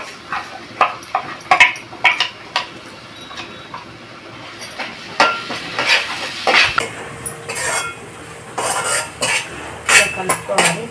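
A spoon stirs tomato paste into an ivy gourd masala curry in a pan, giving irregular scraping and clinking bursts with a soft sizzle underneath, close up and without talk.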